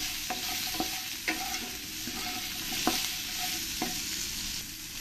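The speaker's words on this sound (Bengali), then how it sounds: "দিয়ে আমি ভালো করে লঙ্কাগুলো আলুর সঙ্গে আমি ভেজে নেব।" Potatoes and green chillies frying in a pan while being stirred, a steady bright sizzle with several distinct scraping knocks of the spatula spaced a second or so apart, close up and with no talking.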